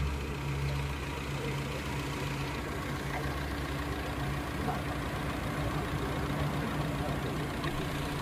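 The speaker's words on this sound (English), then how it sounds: "This is the test for engine idling without the hydrogen generator." A steady, low engine idle rumbles continuously, with a constant hum and faint mechanical ticking throughout; the engine runs without a hydrogen generator attached.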